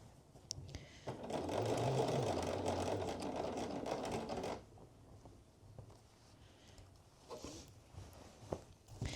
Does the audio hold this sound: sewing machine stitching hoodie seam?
yes